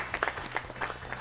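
Short burst of audience applause at a school quiz show, a moderate scattering of claps from a seated crowd heard at a slight distance.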